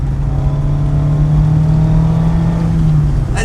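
Big turbo Ford Fiesta ST under acceleration, its loud intake roar holding a steady, droning tone from close up, alone without talk.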